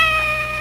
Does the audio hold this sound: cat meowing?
yes